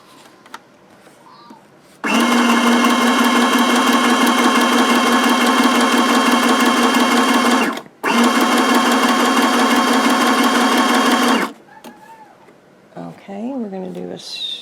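A sewing machine running a small zigzag stitch through fabric baby book pages: two loud, steady mechanical runs of several seconds each, separated by a brief stop, with quiet handling noises before and after.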